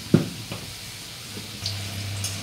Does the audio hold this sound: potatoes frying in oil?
yes